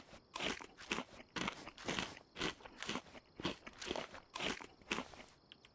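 Close, rhythmic crunching from a video game character chewing food, with about a dozen evenly spaced bites repeating steadily, nothing else underneath.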